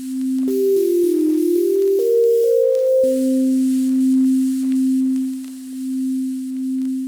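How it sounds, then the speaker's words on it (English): A Falcon synth patch plays a clean, tone-like line whose mix knob is swept by a long step envelope, so the pitch steps up in stages, drops back, then holds with slow wavering swells. "I took the mix knob and added a really long step envelope and made it so that it would sound random."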